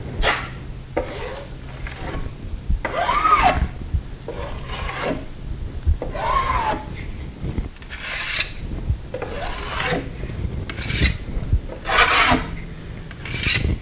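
A drywall knife scrapes joint compound smooth across a drywall joint in repeated rasping strokes, roughly one every second or so, close and fairly loud with short pauses between passes.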